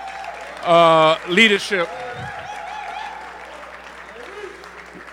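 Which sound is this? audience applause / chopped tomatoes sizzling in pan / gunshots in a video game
audience applause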